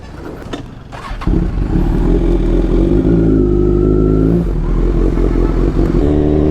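A Kawasaki Z1000 motorcycle starting off with some clatter, then its engine revs up into a loud, steady, close roar with rising and falling pitch as it rides away, with no talk.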